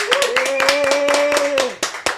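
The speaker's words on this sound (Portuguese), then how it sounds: "Então eu quero pedir um forte aplauso hoje para o nosso convidado" Applause for podcast guest Luciano Subirá: quick, evenly spaced claps ring out over a sustained droning tone that cuts off, followed by a few scattered final claps.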